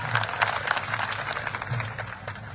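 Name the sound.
crowd applause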